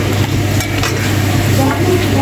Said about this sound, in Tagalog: So, hinalo ko yung bagoong namin.